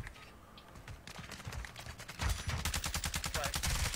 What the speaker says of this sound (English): where the fuck are my bullets going?